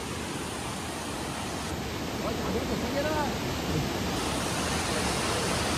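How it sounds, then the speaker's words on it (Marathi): A forceful stream in the Konkan countryside rushes loudly and continuously, a dense steady roar of water close by with faint voices barely audible beneath it. "पाण्याला बघा किती फोर्स आहे"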